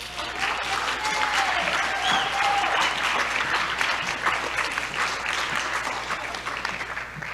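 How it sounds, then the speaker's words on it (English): A school audience gives warm applause at an academic achievement awards ceremony, steady dense clapping throughout with a brief whistle or cheer early on. "Let's give them a warm round of applause."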